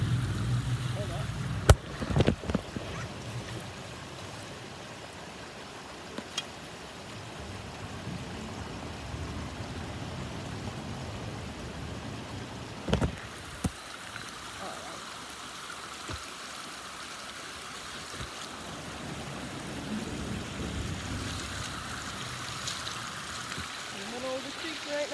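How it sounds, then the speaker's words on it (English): Creek water flowing steadily in a continuous broadband wash, close and moderately loud, with a few brief bumps and splashes as someone wades across; no talking. "The creek right now."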